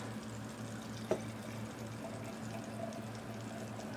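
Wine is poured into a glass in a faint, steady trickle with a small clink near the start, heard over a low room hum and without talking.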